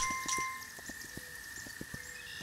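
Horse hooves in the video game Kingdom Two Crowns, a quick, regular clip-clop of a ridden horse over a steady soft background tone, fairly quiet and without voices.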